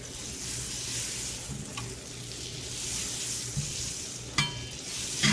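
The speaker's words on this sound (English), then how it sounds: "Alright, our pan's good and warm. Go ahead and put some butter in here." Butter sizzles in a warm Lodge cast iron skillet during camp cooking, a steady frying hiss with a few metallic taps and clinks near the end.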